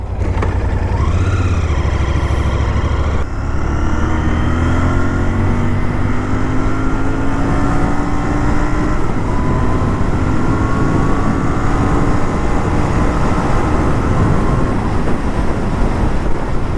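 A loud, steady engine drone from a Royal Enfield Continental GT 650 motorcycle cruising along a road, with rising and falling revs and heavy wind rush.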